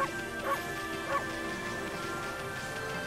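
A cartoon dog barks a couple of times in the video game Okami, short yips over steady game music, with a player's voice faintly in the background.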